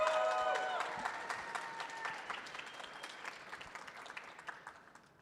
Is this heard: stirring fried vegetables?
no